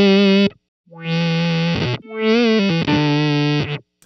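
A Keeley Electronics Synth 1 guitar pedal in chaos mode produces loud, distorted synth-like guitar notes in three bursts with pitch jumps and warbles, each cut off abruptly into silence.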